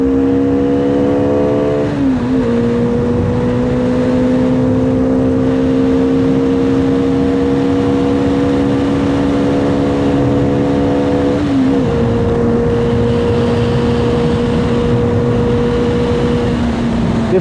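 A Bajaj Dominar 400 naked motorcycle engine drones steadily at high revs, dipping twice as it shifts gears before climbing again, loud and close throughout.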